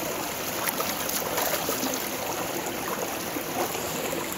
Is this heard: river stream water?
yes